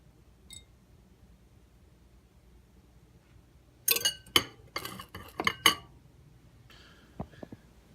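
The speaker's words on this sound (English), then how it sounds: "just take my whisk and I'm going to whisk it all together" A whisk rattles briskly against a bowl while mixing separated egg yolks into the mixture, a short burst of close metallic clinks and scrapes after a quiet pause, ending with a few lighter taps.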